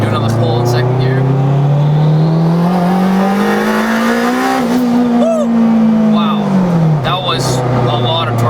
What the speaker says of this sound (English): we're gonna do another pull in second gear